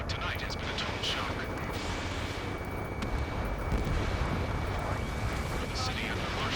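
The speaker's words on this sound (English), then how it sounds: "gunfire and the roar of jets echoing through the streets" In Ace Combat 7: Skies Unknown, muffled gunfire and booming blasts rumble under a continuous roar of jets, with a voice talking over the chaotic battle noise in city streets.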